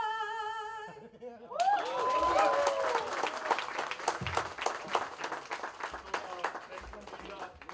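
Music with a sung tone ends abruptly, then an audience at a folk and fusion music festival breaks into sustained applause, dense clapping that slowly thins while voices murmur underneath.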